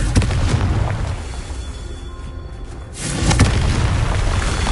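A Confringo fire blast spell going off in Hogwarts Legacy, a loud booming explosive burst that rumbles, dips, then swells again with a second blast, close and alone without talk.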